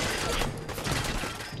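Automated turrets firing in Fallout 4, a dense, loud burst of rapid gunfire crackling with close, uneven impacts and mechanical clatter, lasting throughout the short stretch.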